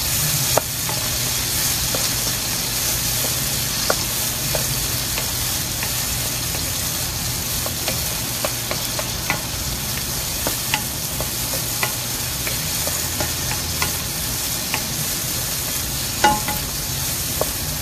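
Tomatoes stir-fried in a pan for Filipino pork pakbet with pork liempo: a steady sizzle runs throughout, broken by scattered scrapes and taps of a spatula against the pan, close and continuous with no talking.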